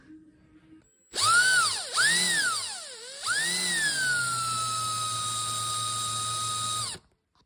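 A cordless power drill bores a hole behind the fender of a Saturn Sky during a horn install, whining up in pitch in two short bursts, then a steady, loud sustained run before cutting off abruptly.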